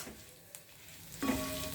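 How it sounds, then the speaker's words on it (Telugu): Tempering spices and a piece of asafoetida sizzle and crackle in hot oil in a wok, a quiet frying hiss with a soft clatter midway and the sizzle rising louder near the end. "పోపు వేయించుకుందాం"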